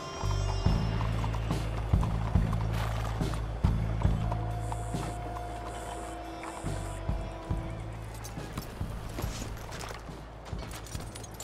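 Horse hooves clip-clop in a steady rhythm at a hitching post in the Red Dead Redemption 2 video game, close and clear over a low ambient hum, easing off toward the end.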